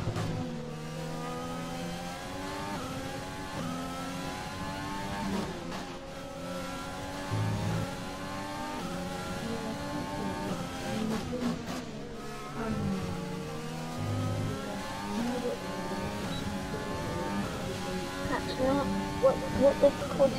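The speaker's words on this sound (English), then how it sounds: "Now my car's speeding." A Formula 1 race car engine in the F1 2020 video game revs and accelerates with a steady high-pitched whine that climbs through repeated gear changes, running continuously under a player's talk.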